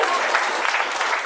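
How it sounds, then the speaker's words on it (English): A crowd gives a brief round of applause at a live event, steady and fairly loud, a wash of clapping that holds evenly for just over a second. "a little round of applause for that"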